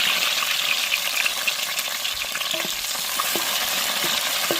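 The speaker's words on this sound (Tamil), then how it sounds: "எண்ணெயிலே வெங்காயம் வெள்ளை பச்சை மிளகாலாம் கொஞ்சம் நேரம் வதங்கி" Onion, green chili, curry leaves and garlic fry in oil for a squid curry, giving a steady close sizzle with scattered crackles and a few stirring scrapes, no voices.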